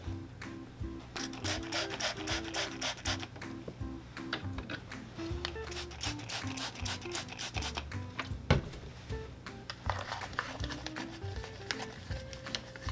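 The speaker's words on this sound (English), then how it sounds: "We're going to get some of our leather soap, clean these up" Brisk rhythmic scrubbing of Tod's leather loafers with leather soap, close and fairly quiet, in quick repeated strokes with short pauses between passes.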